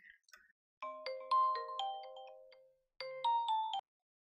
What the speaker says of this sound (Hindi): आफरीन, तुम ये मुझे क्या इतनी देर से फोन कर रही हो?